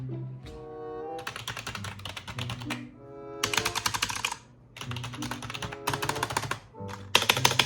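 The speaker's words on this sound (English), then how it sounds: "I wonder what this sounds like compared to my other keyboard." Rapid typing on a mechanical gaming keyboard, close and crisp key clicks in quick bursts separated by short pauses, with no talking.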